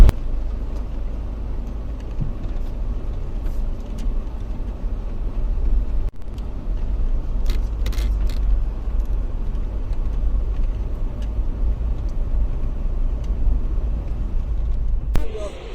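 Steady low engine rumble and road noise from a car driving, continuous throughout at moderate loudness, with a brief thump partway through; someone talks intermittently over it.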